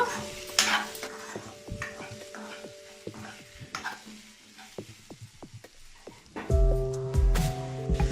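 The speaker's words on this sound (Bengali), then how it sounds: "লবণ দিয়ে আবারও মিক্স করে নিচ্ছি কষিয়ে নেব" Raw mango chutney with added salt stirred and cooked down in a pan, a spatula scraping and clattering against the metal in irregular strokes over a gentle sizzle, with a louder clanking burst near the end.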